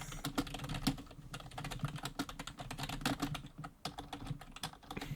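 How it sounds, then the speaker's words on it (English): Rapid computer keyboard typing, a steady stream of close, sharp clicks and key taps with irregular rhythm, heard alone without speech at a fairly quiet level. "If you hear my keyboard clicking in the recording, I apologize."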